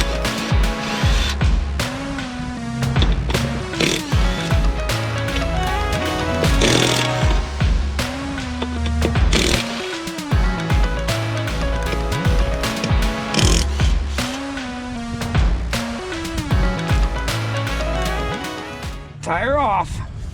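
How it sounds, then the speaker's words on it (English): A half-inch impact wrench hammers the lug nuts off a Kioti CS2210 tractor wheel in loud, close, rattling bursts with short gaps, mixed with a running engine and speech. "Dandy half-inch impact. Just 5 little lugs."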